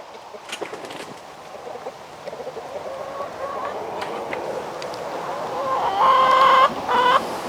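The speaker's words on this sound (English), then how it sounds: "Let the chickens out." Chickens cluck and chatter in a farmyard, several birds close by, with a brief crow-like call near the end over steady background noise.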